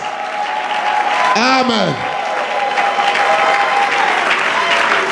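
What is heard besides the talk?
congregation applauding and cheering for Jesus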